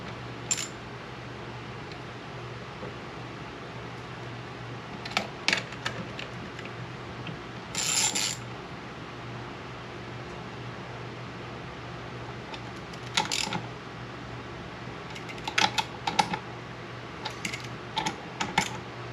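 A ratchet clicks in short bursts and single taps while bolts are tightened during removal of a Honda Goldwing fuel pump, scattered across a quiet garage background with a low steady hum.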